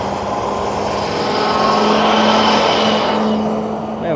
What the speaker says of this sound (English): this RV also just pulled straight off the off-ramp onto the on-ramp